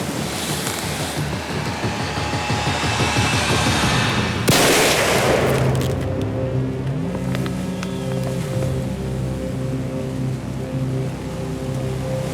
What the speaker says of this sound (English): go ahead and shoot that buck